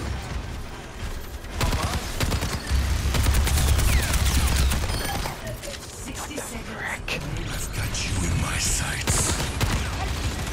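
Rapid bursts of gunfire from the video game Overwatch rattle under game effects throughout, with a voice talking over the shooting.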